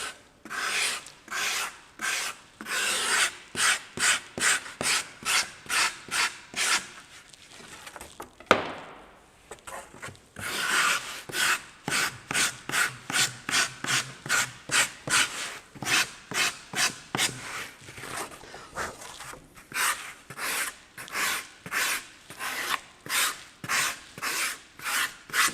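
A rasp files a carved wooden butterfly body with steady back-and-forth strokes, a rhythmic, gritty scraping close by that stops briefly partway through before resuming at the same pace.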